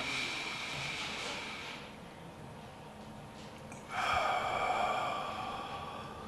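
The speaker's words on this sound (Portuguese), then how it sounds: "vai fazer uma respiração funda e normal" A person demonstrates a deep, slow breath as part of a self-hypnosis induction, with an airy inhale, a quieter pause, then a louder, breathy exhale, close to the microphone and with no speech.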